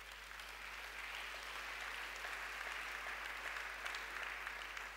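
A church congregation applauds during an Easter Sunday service, with steady, sustained clapping from many hands that sounds fairly distant and soft, alongside a low constant hum and no speech.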